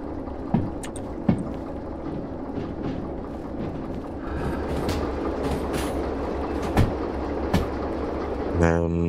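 A train rolls along its track in the Derail Valley simulator, a loud steady rumble with periodic clacks and thumps of wheels over rail joints, and a squeal near the end.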